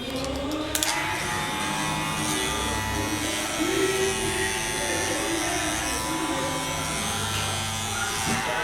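An electric hair clipper, zero guard, buzzes steadily close up while cutting hair near a parting line for a freestyle design, a continuous droning hum with slight changes in pitch as it moves.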